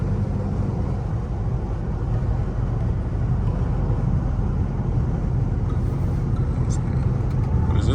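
Dodge Charger RT driving on city roads, a steady low engine and road rumble heard from inside the car, continuous and even.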